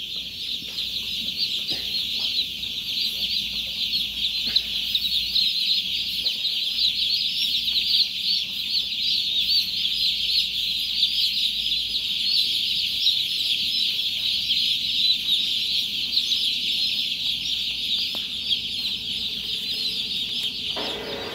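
Thousands of chickens in a crowded Taiwanese poultry house cluck and cackle continuously, forming a dense, steady chorus with no pauses.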